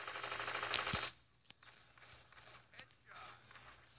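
Gunfire in the shooter video game Blitz Brigade, a loud burst of rapid automatic fire lasting about a second, followed by a few isolated shots and faint game noise.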